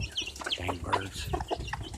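Several chickens cluck and squawk in a coop with chicks about, a busy overlapping run of clucks and chirpy calls close by with no talking.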